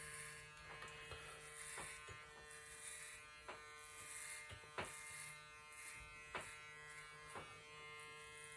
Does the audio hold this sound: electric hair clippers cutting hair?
yes